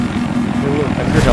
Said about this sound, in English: I've heard helicopters.